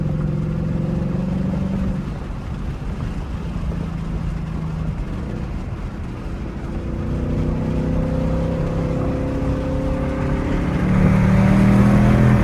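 Ford Mustang S650 V8 fitted with an H-pipe exhaust, heard from inside while driving: a deep, loud, steady engine drone with rising harmonic tones as it accelerates and revs harder near the end.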